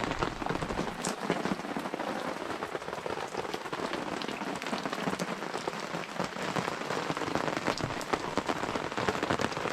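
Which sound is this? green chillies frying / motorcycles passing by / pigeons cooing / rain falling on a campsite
rain falling on a campsite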